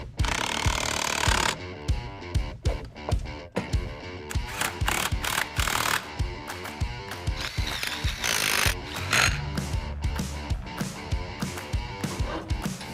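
Power tool drives lug nuts to bolt a wheel onto a 1956 Chevy in a garage, sounding in repeated rattling bursts with short gaps, close and fairly loud, with clanks between.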